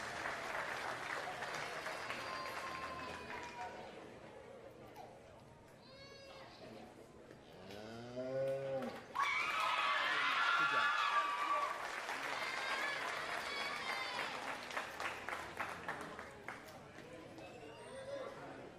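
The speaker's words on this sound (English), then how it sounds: "give everybody involved a big round of applause." A crowd at a cattle-judging livestock show breaks into loud, sustained applause after a speaker on a microphone talks, with voices and a few animal-like calls in the mix.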